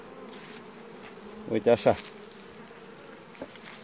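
Honey bees buzz around an apiary hive, a steady insect drone beneath a short burst of talk, with a faint tap near the end.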